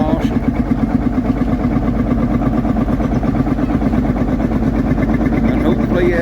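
A vintage Marshall single-cylinder two-stroke diesel tractor runs at a show, its engine giving a steady, loud pulsing beat throughout, with a continuous low rumble and no break.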